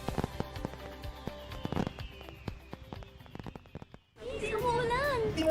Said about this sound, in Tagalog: keep the tradition alive with fireworks built for excitement and crafted for safety